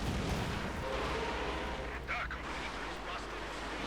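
Rumbling rocket artillery barrage from a Katyusha launcher in the Company of Heroes 2 strategy game, heard as continuous low booming explosions under in-game noise, with a voice talking over it.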